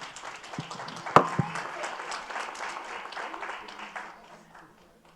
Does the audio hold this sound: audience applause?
yes